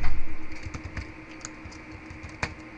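Fingers typing a name and email address on a computer keyboard, a close, irregular run of key clicks, denser at first and then sparser with a firm final keystroke, no speech.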